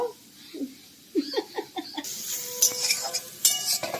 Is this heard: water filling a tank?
no